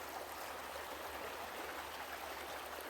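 A small stream runs beside a walking path, a steady, even rush of flowing water that stays constant and fairly soft throughout, with no voices.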